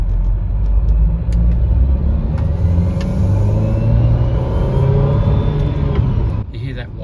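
A BMW N20 engine, suspected of a worn lower timing chain, runs at idle with a steady whine over a low rumble for several seconds before a brief clatter near the end.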